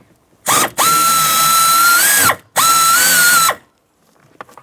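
Two long, loud whirring bursts from a powered ratchet or driver backing out 8mm mounting bolts on an HVAC blend door actuator in a 2007-2017 Jeep Patriot, each about two seconds with a steady pitch, close up, then faint clicks.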